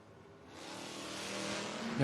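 Drag race launch between a 1978 Camaro and a 1974 Vega at a footbrake drag racing event: engine roar builds from quiet into a loud, sustained rising rumble over about two seconds, with a crowd-like wash and a voice nearby.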